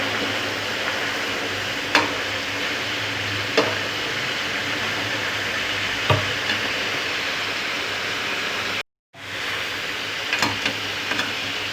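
Chicken karahi with tomatoes frying in a pan, a constant dense sizzle with occasional scraping stirs, close and steady, with a brief cut near the end.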